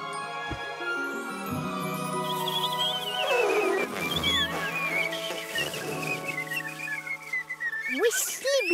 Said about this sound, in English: What's that noise? It's whistling.